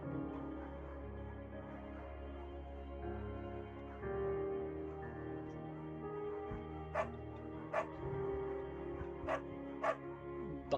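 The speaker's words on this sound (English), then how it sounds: "Bucket's a good dog" Bucket, a German Shepherd in the Firewatch video game, gives a few sharp barks late on, spaced apart over a low sustained musical drone.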